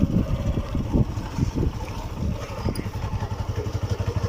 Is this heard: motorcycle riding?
yes